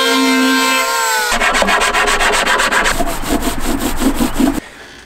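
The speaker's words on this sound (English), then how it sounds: "So now I'm just going to give them a sand and clean them up a little bit" Hand sanding of wooden battery box enclosures during a yacht restoration: loud, close, rhythmic back-and-forth rasping strokes that start after a steady tonal hum, then stop abruptly.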